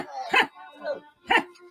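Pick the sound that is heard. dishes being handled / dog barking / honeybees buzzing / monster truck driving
dog barking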